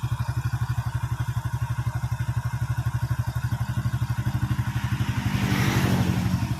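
A Honda Supra X100 motorcycle engine, freshly fitted with a reassembled cylinder block and a new cam chain, idles with a steady, even, close-up rhythmic putter, then briefly rises and settles near the end.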